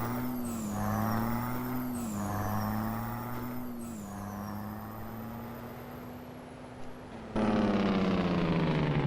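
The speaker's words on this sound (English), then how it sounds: "So yeah, it's a pretty cool sounding engine." A deep Kenworth K100 truck engine in Euro Truck Simulator 2 drones steadily with rising and falling revs and a high turbo whistle, then a louder, rougher burst of throttle near the end.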